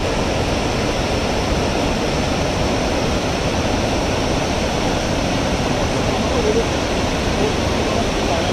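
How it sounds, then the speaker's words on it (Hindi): Dhuandhar waterfall at Jabalpur, a broad cascade roaring loudly and steadily from close range, a dense unbroken rush of water with no pauses. "तो दोस्तों ये है धुआंधार झरना फॉल"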